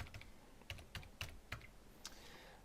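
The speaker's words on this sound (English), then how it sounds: "I'm going to type in earrings again" Quiet typing on a computer keyboard, a short run of about eight separate key clicks in an uneven rhythm, close and faint with no voices.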